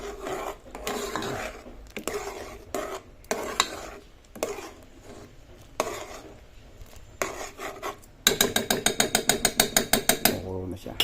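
Banana heart being stirred in a boiling pot for a Filipino coconut-milk dish: repeated scraping and rasping strokes against the pot, rhythmic and close, turning into a fast, regular clatter near the end.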